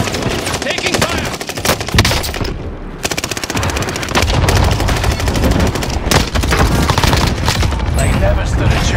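Rapid gunfire in the video game Call of Duty: Warzone, dense bursts of automatic shots crackling almost continuously, loud and close, with brief gaps and a voice speaking at times.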